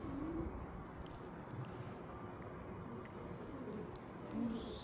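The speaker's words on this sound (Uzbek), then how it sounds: "Kaptar ovoz eshitilyapti." Pigeons coo softly through a steady background hum at a historic sixteenth-century site tied to Imam al-Bukhari's childhood, with low repeated calls in the distance.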